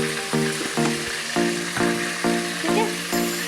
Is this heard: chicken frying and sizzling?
yes